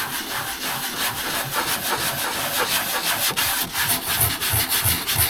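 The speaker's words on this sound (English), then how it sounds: "give it a good sand" Wood being sanded by hand during a jukebox build, a steady rhythmic scratchy rubbing of strokes back and forth, close and continuous with no talk.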